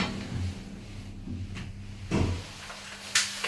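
Refurbished hydraulic passenger lift in a Cambridge city-centre building, its doors sliding slowly shut with low rumbling movement and a few soft bumps and a thud near the end, no voices.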